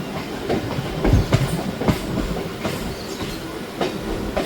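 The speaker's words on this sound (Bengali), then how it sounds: "ট্রেন আমাদের ঢুকছে এখন হলো বাগবাজার স্টেশন" A local train rolls into Bagbazar station with a steady rumble and repeated clickety-clack of wheels over rail joints, heard close from inside the carriage with no talk.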